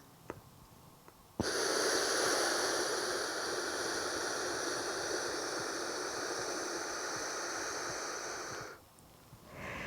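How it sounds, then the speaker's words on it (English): A single long, steady exhalation into a Lumen breath metabolism analyser, a close, breathy rushing hiss lasting about seven seconds before tapering off, after a quiet click, no talking. "Exhale in 3, 2, 1."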